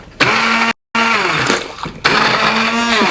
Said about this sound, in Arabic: هنا بنات عندي الذراع او خلاط براحتك. راح ابدأ اهرس فيه التمر